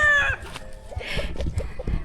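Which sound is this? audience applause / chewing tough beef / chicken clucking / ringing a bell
chicken clucking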